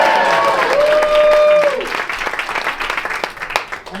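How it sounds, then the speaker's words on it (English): Audience at a Magic Castle magic show gives a round of applause, dense clapping alone at first, with a voice speaking over it before the clapping thins and fades out. "Big round of applause for Brittany"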